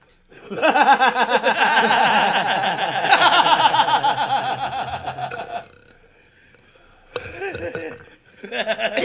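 A drawn-out, wet, bubbling belch lasts about five seconds, close and loud, then trails into quiet before two shorter guttural bursts break through.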